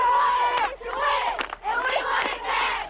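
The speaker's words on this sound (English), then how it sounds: "Hundreds of people from the town of Sigourney have journeyed 90 miles to an away game to cheer for their high school football team" Large crowd cheering and yelling at a small-town Iowa high school football game on a Friday night, a loud continuous roar of many voices swelling in waves.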